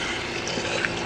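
Cold water runs from a tap aboard a sailboat after its fresh water system has been sanitized and repaired, a steady close trickling splash with no voices.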